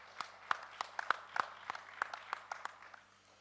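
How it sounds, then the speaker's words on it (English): Sparse, scattered claps from a small audience at a panel event, individual hand claps spaced irregularly over a few seconds, fairly faint and thinning out at the end. "a round of applause for Praveen and his team."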